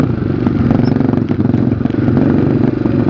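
Borrowed trail motorcycle running close by, a loud, steady, throbbing engine rumble with slight fluctuations in pitch and no voices over it.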